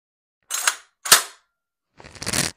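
Three sharp mechanical clicks and clacks from an airsoft gun's safety and action, about $200 airsoft rifle, close and loud, with short silent gaps between them and no talking.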